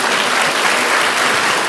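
A congregation claps during a church service, loud dense applause with no break, and no talking over it.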